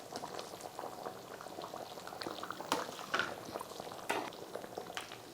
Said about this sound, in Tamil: இப்போ குழம்பு நல்லா கொதிச்சு வந்திருக்கு.